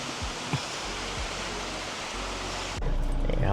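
Water of a shallow stream rushes steadily at Thararak waterfall near Ban Chedi Kho, Phop Phra, Tak province, a broad constant wash of noise that brightens and grows louder toward the end.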